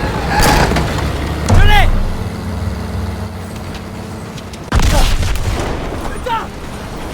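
A grenade blast in the World War II shooter Call of Duty WW2 lands as a loud, low boom with a rumbling vehicle engine underneath. Excited shouting runs over it, and a second burst follows a few seconds later.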